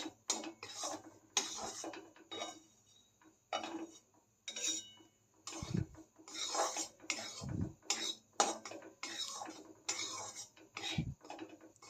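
Dry semolina (rava) roasting in a pan, stirred with a utensil that scrapes and clinks against the metal in repeated bursts, with brief pauses between strokes.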